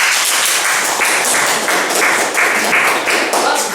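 Comedy gig audience clapping, a sustained patter of many hands at steady loudness across the whole span, with a bit of crowd voice mixed in.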